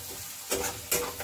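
Carrot curry with garam masala being stirred in a pan, with two short scraping swishes of the spoon over a soft steady sizzle, close by.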